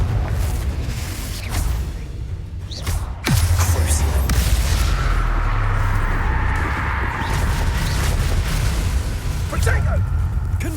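Confringo spell blasts erupt in the Hogwarts Legacy game, with a sharp loud burst near the three-second mark followed by sustained rumbling explosion noise. A voice shouts spell names over the combat.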